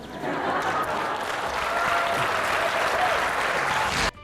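Sustained applause from a large forum crowd, dense and steady clapping for about four seconds before it cuts off abruptly.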